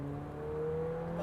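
A McLaren 720S on gentle throttle at the Le Mans circuit, its engine holding a steady, smooth drone with a slowly rising pitch, heard from inside the car.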